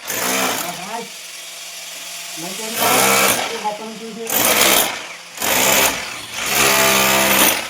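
An electric wall chaser cutting grooves into a house wall for electrical pipes, its loud high-pitched whine rising in several long bursts with pauses between, while someone talks nearby.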